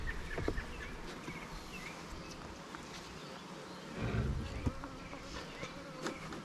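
Honey bees from a package colony two months after installation buzz around their partly opened hive, a steady insect drone with a few bees passing close by, outdoors with no talking.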